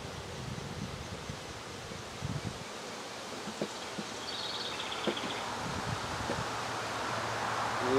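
Honeybees buzz faintly around an opened nucleus hive during an inspection, a soft steady drone mixed with light rustling and wind, with a few small knocks.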